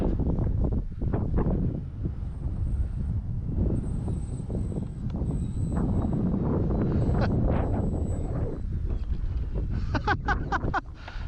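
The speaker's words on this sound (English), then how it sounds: "Yeah, that wind is getting fierce, folks." Strong, gusty wind buffets the microphone at an RC model plane flying field, a steady low roaring rush with surging gusts throughout, while someone talks faintly underneath.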